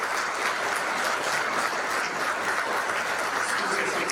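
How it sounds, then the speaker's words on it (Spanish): Congregation at a men's church congress applauds in praise, a steady, dense wash of clapping from many hands that holds at an even level throughout. "denle un aplauso al Señor"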